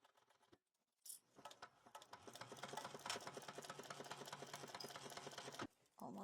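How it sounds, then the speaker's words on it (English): Sewing machine stitching a handbag lining at a 5/8-inch seam allowance, starting after a short quiet gap and running as a fast, close rhythmic patter for several seconds before stopping. "So we're going to sew 5/8 of an inch here."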